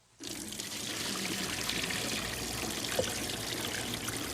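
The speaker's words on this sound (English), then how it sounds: "all we do is cook a pound of spaghetti like we normally would do and drain it well" Water from a pound of freshly cooked spaghetti drains through in a kitchen, a steady close rush of pouring liquid that starts abruptly and runs unbroken to the end.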